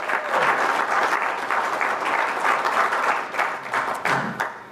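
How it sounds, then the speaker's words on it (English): Audience applause at a tribal council meeting, a steady burst of clapping from a roomful of people that holds for several seconds with no talk over it. "let's give them a big round of applause."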